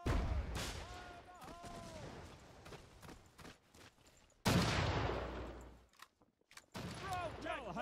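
Booming cannon fire and gunfire from a Battlefield 1942 Pirates mod pirate battle, with dense repeated blasts and explosions and game voices shouting through the clamor.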